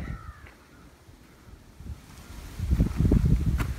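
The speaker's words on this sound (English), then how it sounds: "This is actually exposed to the wind, but it'll be a nice view." Wind gusts across an exposed outdoor spot picked for cooking in freezing weather, a steady low rumble of microphone buffeting that swells louder and more turbulent toward the end, with no talking.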